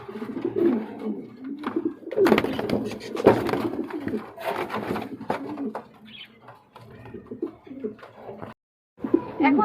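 A Kashmiri Nesar running pair of pigeons cooing close by, with deep rolling coos in uneven bursts, some sharper clattery moments among them, and short gaps between calls.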